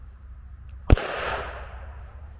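One sharp, loud shot from a Bruni 315 Auto semi-automatic blank pistol cracks out, followed by a short echoing tail that fades over about a second.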